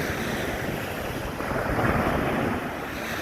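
Sea waves wash onto Phayun beach in Rayong, a steady broad surf roar mixed with gusting wind buffeting the microphone, with no voices.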